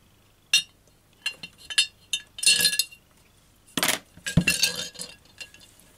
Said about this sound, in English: And I'm going to drop the chassis into this jar.